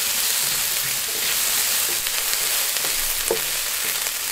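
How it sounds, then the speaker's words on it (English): Onion and garlic frying in a tablespoon of hot olive oil in a pan, a dense, steady sizzle running throughout with faint stirring clicks, close and fairly loud. "into the hot oil, add the onion and the garlic. Cook until light golden brown."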